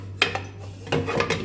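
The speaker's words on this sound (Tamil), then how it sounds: "ஸோ ஃபஸ்ட்டு பெரிய பாத்திரம்லாம் வச்சிடலாம்." Dishes are set into the rack of a Bosch Series 4 14-place-setting dishwasher (SKS46KI03I), making a few close clinks and rubbing knocks in two quick bursts.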